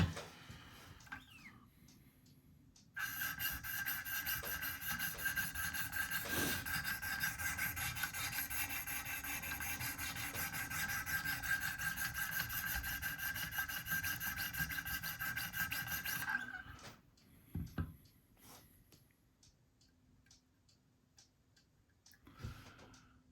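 A blade of M390 steel on a Benchmade Bugout knife is stroked along the stones of a Wicked Edge sharpener, a steady close rasping rub that runs without pause for about thirteen seconds, then gives way to a few scattered scrapes and taps.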